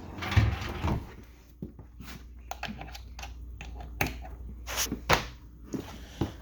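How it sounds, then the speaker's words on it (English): Kitchen drawers and cabinet doors in a Forest River Cardinal 3600 RV open and close several times, a run of close, irregular knocks, slides and clunks with quiet gaps between them and no talking. "So you got drawers in there."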